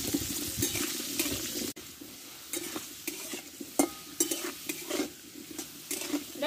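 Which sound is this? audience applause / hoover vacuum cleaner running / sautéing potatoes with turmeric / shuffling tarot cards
sautéing potatoes with turmeric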